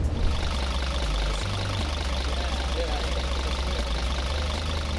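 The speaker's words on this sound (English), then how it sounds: "It has a diesel engine in it." A 1980 Mercedes-Benz 300 diesel converted to run on vegetable oil idles with a steady, low, knocking clatter, continuous and moderately close, with a voice speaking over it.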